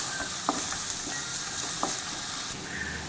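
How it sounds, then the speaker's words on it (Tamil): Onions and curry leaves fry in hot oil in a pan, a steady close sizzle with scattered crackles and pops, the stirring taps faint, and no voices. "வெங்காயம் நல்லா பொன்னிறமாக வதக்கி வரட்டும்"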